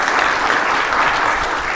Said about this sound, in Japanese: 皆さん拍手でお送りください